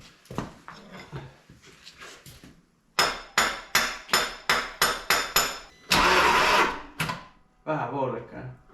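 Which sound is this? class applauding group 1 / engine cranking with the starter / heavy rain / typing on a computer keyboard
engine cranking with the starter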